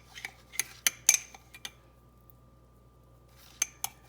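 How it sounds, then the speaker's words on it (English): A utensil briskly stirs sourdough starter in a bowl, making a rapid series of sharp clinks and scrapes, then a pause, then two more taps. "And again, stir it up briskly."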